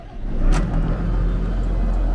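A JCB Fastrac 4220 tractor engine cranks and catches with a sharp burst, then settles into a steady, loud low rumble that continues to the end.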